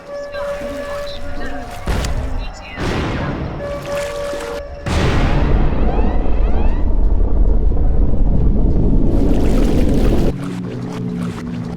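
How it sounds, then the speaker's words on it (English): A meteor blast in a video game gives a deep rumbling boom that swells from a low roar into a long, loud, dense wash lasting several seconds before dropping back to quieter game sounds, with bursts of other effects beforehand. "We survived the blast!"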